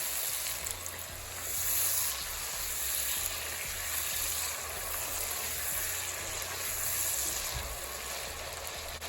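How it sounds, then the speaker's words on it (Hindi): Sizzling and bubbling as a little water hits a hot pan of cooking watermelon sabzi, a steady soft hiss that swells and settles, fairly quiet and without talk. "थोड़ा सा पानी ऐड करेंगे।"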